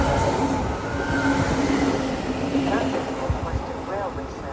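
Train pulling into Milton Keynes Central station on the West Coast Main Line, a steady rumbling roll with a faint wheel squeal, a station announcement talking over it.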